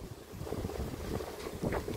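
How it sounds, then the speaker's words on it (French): Wind blowing at Miami Beach, gusting and rumbling across the microphone with a steady rushing roar and a swell near the end. "il y a de plus en plus de vent."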